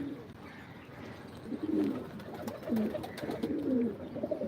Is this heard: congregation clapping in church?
no